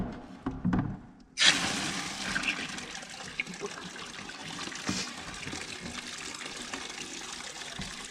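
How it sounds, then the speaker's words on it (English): Hot, steamy water gushes from a newly plumbed tap in a workshop, starting abruptly after a few clunks and running as a steady splashing rush, close and fairly loud, with no talk. "It's already hot, steamy water."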